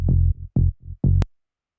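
Tech house bass line with sidechain volume ducking, three deep pulsing notes that swell and drop away in a bouncing rhythm before stopping abruptly, played alone.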